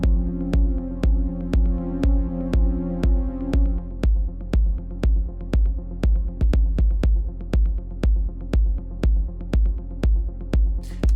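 Synth pad from Serum in unison mode with slight detune, sustaining chords under a steady, punchy four-on-the-floor kick of melodic techno; the pad drops away partway through, leaving the kick and a thinner layer running alone.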